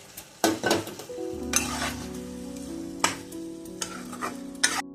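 Coriander and cumin spice paste frying in a pot for home-style chicken biryani, with a continuous sizzle, repeated scraping stirs and a few clinks of a utensil against the pot.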